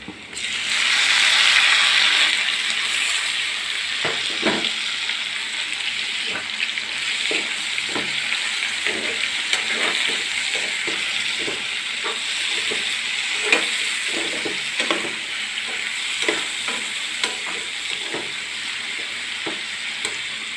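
Onion and finely chopped tomato frying in a pan for chicken thoran, a loud steady sizzle that swells at the start as the tomato goes in, then continues with repeated scraping stirs of a spatula.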